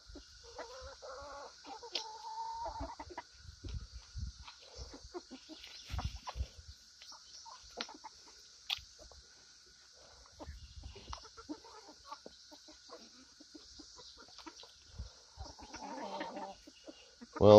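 A flock of about 28 backyard chickens, black-and-white hens and Easter Eggers, clucks softly and intermittently nearby, with scattered scratching and rustling in a quiet yard.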